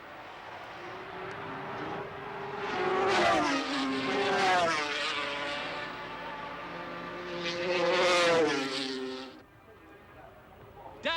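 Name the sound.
Kawasaki racing motorcycle at Oulton Park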